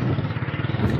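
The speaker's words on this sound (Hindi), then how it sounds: "पपा बाइक हलाए रहियो आहे।" A motorcycle ridden by a father on a hot Karachi street, its engine chugging in a steady low pulsing rhythm close by, with no voices.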